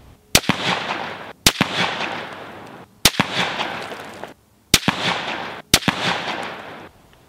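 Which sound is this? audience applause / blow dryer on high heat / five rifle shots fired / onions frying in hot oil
five rifle shots fired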